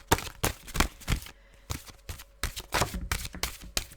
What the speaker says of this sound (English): Maybe shuffle from the other way.